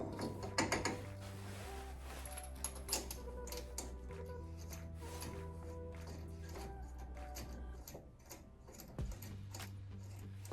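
A torque wrench is used on M12 wheel nuts while wheel spacers are fitted to a Honda Pioneer 520, producing faint, close metallic ratcheting and clicks over a low steady hum, with no talk.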